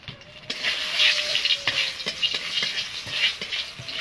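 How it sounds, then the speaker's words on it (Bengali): Radhuni seeds dropped into hot oil for tempering crackle and sizzle sharply, a bright, continuous frying hiss with small pops, close and steady for several seconds with no talking. "তেলটা গরম হয়ে গেছে, কটা রাঁধুনি ফোড়ন দিয়ে দেব।"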